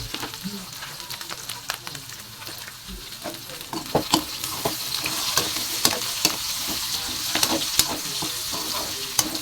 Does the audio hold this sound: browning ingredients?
yes